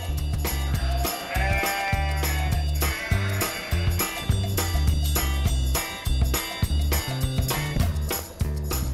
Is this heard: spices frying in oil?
no